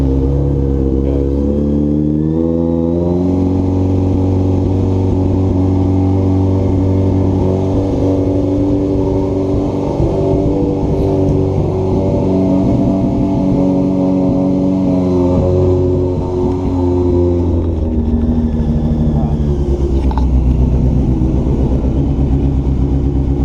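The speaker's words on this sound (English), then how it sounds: "So got the jumper cables hooked up, so we'll see if it's gonna fire up." After a jump start with jumper cables, a motorcycle engine runs continuously and loudly close by, holding a steady idle with rumbling low tones and a slight rise and fall in pitch.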